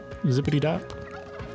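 Turkey gobbling in the video game Spelunky 2, a short loud warbling gobble that rises and falls for about half a second, then fades under faint game sounds while a voice says a few words.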